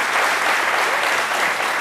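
A studio audience on a French-language talk show claps steadily and densely, a continuous wash of applause that fills the whole moment.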